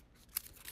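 Scissors snip through duct tape around a craft template, a single quick crisp cut standing out against a quiet background.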